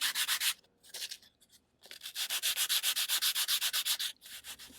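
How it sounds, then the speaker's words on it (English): Close, rhythmic scratchy rubbing of sandpaper on a rotating wooden saguaro cactus model, a run of strokes, a brief pause, then a longer even series of back-and-forth sanding strokes. "as I'm sanding it, I'm rotating it."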